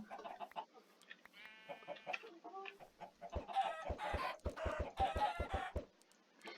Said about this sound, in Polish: Jeden tylko kurczak.